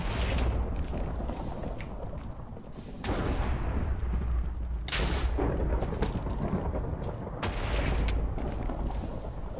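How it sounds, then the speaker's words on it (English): A Minecraft blood magic ritual activates around a master blood orb and begins spawning fire, bringing deep rumbling booms and crackling bursts that swell and recede in several waves, loud and without talk. "It's going to activate. It's going to start making a bunch of fire."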